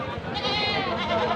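A goat at a livestock market gives a loud, close, wavering bleat that holds for over a second, with market noise behind it.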